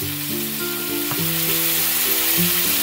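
Drained hog plum pieces frying in oil with salt for a prawn dish, giving a strong, steady, close sizzle with light stirring scrapes throughout.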